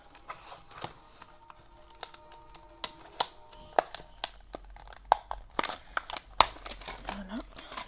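Plastic packaging of washi tape being opened by hand, a close series of crinkles, snaps and tearing crackles growing busier toward the end, with a voice speaking quietly at times.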